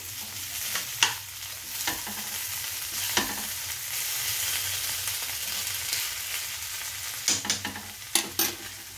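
Ghee sizzling in a pan of radish cooked with fish head, a steady close crackle with several sharp scraping stirs clustered near the end and no voices.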